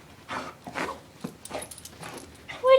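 A puppy fresh from a bath gives a series of short, soft whimpers and little yips, close by, with brief pauses between, ending in a higher squeak.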